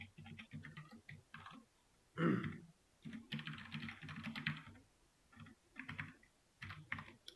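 Soft, close clatter of keys on a computer keyboard as a count query is typed, with bursts of rapid keystrokes broken by short pauses and a slightly louder thump near the start.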